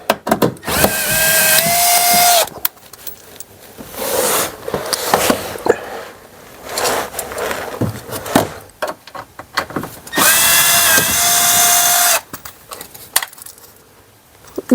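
An electric screwdriver gun fitted with an 8mm socket undoing bolts on a 2017 Mercedes-Benz E-Class W213 2 L diesel, with loud, close whirring bursts of a couple of seconds each, separated by pauses and handling noise.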